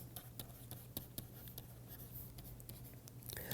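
During a mathematics lecture on the spectral theorem, chalk or a pen taps and scratches faintly across a board in short, irregular strokes over a low steady room hum.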